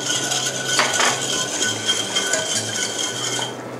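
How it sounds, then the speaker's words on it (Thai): A hand whisk stirs sugar, fish sauce and vinegar together in a metal pot, giving close, quick rhythmic clinking and scraping against the pot for several seconds. "ใช้ตะกร้อมือนะคะคนให้น้ำตาลแล้วก็น้ำปลาแล้วก็น้ำส้มสายชูค่ะผสมให้เข้ากันนะคะ"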